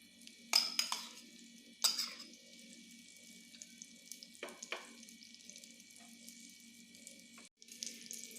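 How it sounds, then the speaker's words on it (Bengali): Stuffed eggplant pieces with egg fry in a pan, giving a faint, steady low sizzle broken by a few brief louder bursts of crackle, with no talking. "বেগুন ভাজার একটা সুন্দর গন্ধ"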